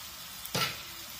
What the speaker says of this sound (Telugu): ఇప్పుడు దీంట్లో మనం టమాటాలు వేసుకుందాం